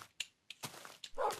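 Short dog barks and yips from a Minecraft dog, several separate bursts with gaps between them, fairly quiet, plus a brief rougher sound at the end.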